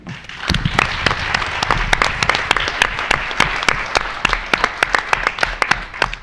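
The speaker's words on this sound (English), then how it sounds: "let's have a special round of applause for the Bob Bullock Texas State History Museum" Studio audience applause at a Texas quiz show taping honoring the Bob Bullock Texas State History Museum, a dense steady wash of clapping with sharp individual claps standing out near the microphone throughout.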